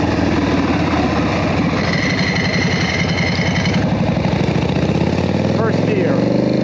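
A motorcycle fitted with a foot clutch and jockey shift, and no front brake, rides along on a favorite loop. Its engine drones loud and close throughout, a steady rumbling pulse whose pitch wavers and climbs toward the end.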